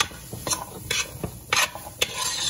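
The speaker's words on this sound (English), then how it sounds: "Stir all that seasoning into your chickpeas with your herbs also." Chickpeas being stirred through seasoning and herbs in a pot, heard as several soft scraping, rasping strokes at an uneven rhythm, close and fairly quiet with no voices.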